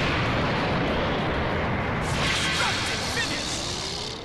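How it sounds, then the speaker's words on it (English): Explosion from a destructive finisher in Dragon Ball FighterZ, a loud sustained roaring blast of dense noise filling the whole span, with a faint whistling tail near the end. "Come on, do the explosion thing."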